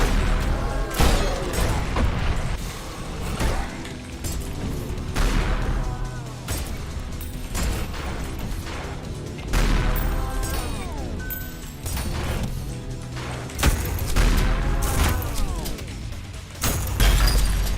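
Repeated explosions and crashing impacts in an Ultrakill-style shooter game, with shattering glass-like breaks, arriving in loud bursts roughly every few seconds over dense, continuous game sound and music.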